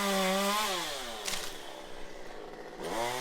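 A chainsaw run one-handed bites into wood at close range. Its engine whines high, drops as it bogs into the cut, rattles through a rough middle stretch, then revs back up near the end, with no talking.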